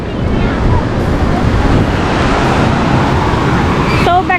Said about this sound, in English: has a little bit of some waves on the beach